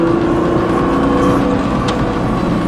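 A race car accelerates hard out of a track corner, a steady loud engine drone holding near and continuous throughout with no speech.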